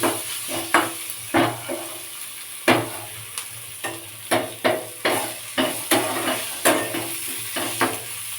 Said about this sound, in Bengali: বেশ লাল লাল করে ভেজে নেব পেঁয়াজটাকে